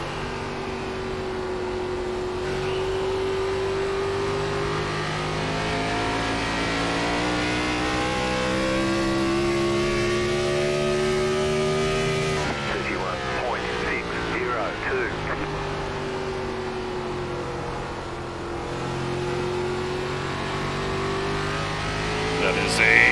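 NASCAR race car engines in the iRacing video game drone steadily at high revs, pitch shifting up and down as cars circle, with a voice talking over the engine sound.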